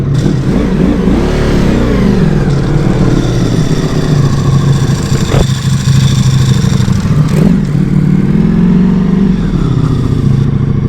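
A Ducati Multistrada V4 idles and revs nearby, its dry clutch rattling and clattering under a deep, steady engine drone, with a few rising throttle blips breaking through.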